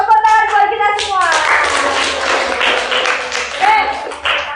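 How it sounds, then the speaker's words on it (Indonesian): A school class claps hands together, quick clustered claps with children's and a teacher's voices talking and calling out over and between them. "Tepuk tangan buat kita semua."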